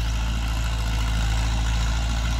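Ford 6610 4WD farm tractor engine running steadily, a loud, close, continuous low diesel drone with a constant idle-like throb and no voices.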